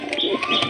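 Pigeons coo nearby in a brief, soft, throaty murmur, a couple of low warbling calls close together.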